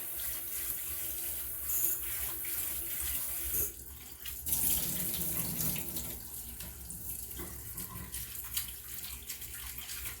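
Cold tap water runs steadily into a sink while a mango is washed under it, a continuous splashing rush with slight changes as the fruit moves through the stream.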